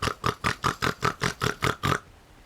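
A person imitates a pig, giving nine evenly spaced, nasal oinks in a quick steady rhythm, close and clear, then stopping abruptly.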